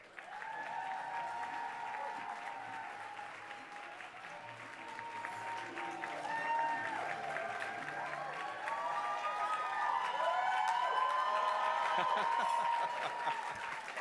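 Applause fills a luncheon hall as two speakers are welcomed, a dense, sustained clapping from a large audience that grows slightly louder toward the end, with some cheering and voices mixed in.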